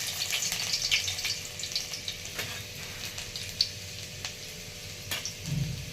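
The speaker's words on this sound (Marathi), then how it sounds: "लसूण टाकून घेते तेलामध्ये" Chopped garlic fries in hot oil as a soft, even sizzle, broken by sporadic light ticks and clicks, with no one speaking.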